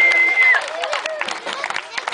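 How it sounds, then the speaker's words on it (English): Applause from a live audience at a street magic show, scattered clapping and crowd noise with a shrill whistle at the start, mixed with voices talking over it. "Let's give her a big round of applause"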